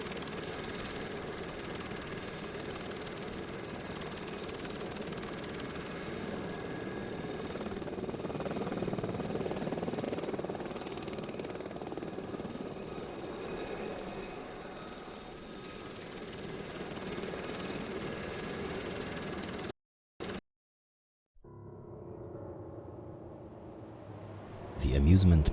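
Helicopter in a Chernobyl VR game, setting down at the Pripyat amusement park: a steady, droning rotor hum that holds evenly for about twenty seconds, then cuts out abruptly, followed by quieter ambient sound and a brief bump at the end.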